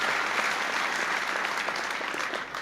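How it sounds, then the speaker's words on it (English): Nurses in an audience at a speech by President Clinton in Framingham give dense, continuous applause, a steady wash of many hands clapping at moderate distance with no pause. "I see the nurses clapping there."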